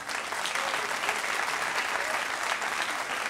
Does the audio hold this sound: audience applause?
yes